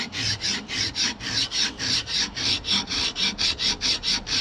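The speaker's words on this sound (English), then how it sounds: "every once in a while, though, you have to smooth it out with a file, some sandpaper, something" Turned wood on a lathe is smoothed with a file or sandpaper, giving a steady, rhythmic rasping stroke that repeats evenly and close up, with no talk.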